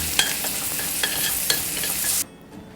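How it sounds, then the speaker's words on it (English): Onions stirred in a frying pan beside steak, a steady hiss of frying with a few sharp scrapes of the spatula, close up, ending abruptly into near silence. "You can start stirring your onions around."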